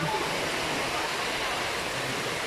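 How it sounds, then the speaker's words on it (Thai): Heavy water flows and floods across the ground in front of a hall, a steady, loud, broadband rushing wash like rain runoff with no pauses and no voices. "ตรงหน้าหอแก้วนี่น้ำไหลจึงนองเลยนะครับ"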